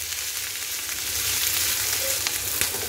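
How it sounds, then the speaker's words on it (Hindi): Sliced onions frying in a pan for egg curry give a continuous, fairly loud close sizzle with a few faint scrapes and no speech. "ये आप देख सकते हैं प्याज हमारी थोड़ी भून चुकी है"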